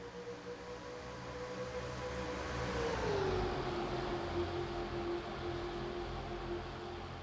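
Race cars at Talladega, a loud sustained engine roar from the pack whose pitch sweeps down as the cars pass, then holds steady, with no talk.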